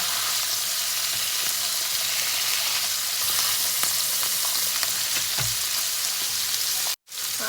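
Vegetables sizzle and crackle steadily in hot oil in a pan, a continuous close frying hiss with occasional stirring clatter.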